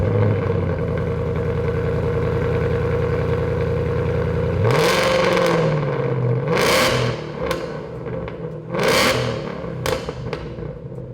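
A 2018-2023 Ford Mustang GT engine idles with a deep rumble through a custom 2.5-inch Borla cat-back exhaust, then revs sharply several times, each blip rising and falling back to idle, loud and close.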